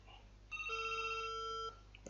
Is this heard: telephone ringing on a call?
yes